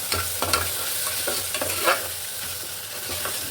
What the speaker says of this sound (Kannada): ಈ ಥರ ಫ್ರೈ ಆಗಬೇಕು ಚೆನ್ನಾಗಿ